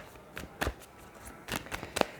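Tarot cards shuffled in a few quick, crisp bursts separated by short pauses, close by and fairly quiet, with no talking.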